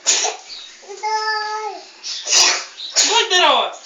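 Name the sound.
child sneezing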